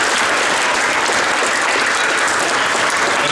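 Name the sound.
audience applause for a sponsor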